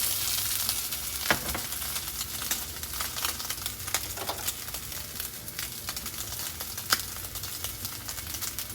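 Tuna steak frying in oil in a pan gives a steady, close sizzle with a few sharper pops and spits as the oil is moved around, no voices.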